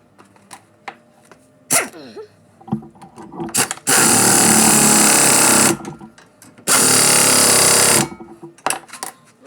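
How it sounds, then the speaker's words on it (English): Impact wrench tightening the wheel bearing on a 2012 Toyota RAV4, two loud sustained bursts of hammering rattle about two seconds each, separated by a pause, with scattered clanks and handling noises around them. "now I think we will get it with the impact. Make sure we get it nice and tight"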